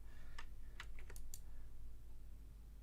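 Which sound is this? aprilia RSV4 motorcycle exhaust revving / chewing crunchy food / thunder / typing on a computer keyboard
typing on a computer keyboard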